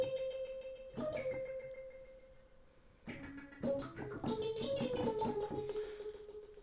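A synthesizer lead with LFO modulation plays a sparse, quiet line of notes, a held tone, a pause, then a busier phrase of short notes with a slight wobble.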